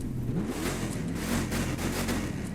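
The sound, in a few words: Ram 1500 TRX truck engine revving, The Crew 2 video game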